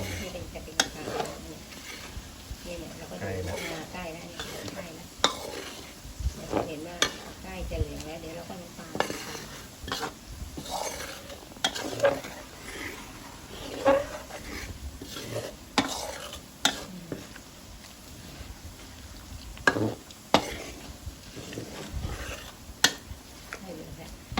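Garlic frying in oil in a pan to make crispy fried garlic, over a steady sizzle with repeated scraping and clinking of a spoon stirring against the pan, and a voice talking faintly now and then.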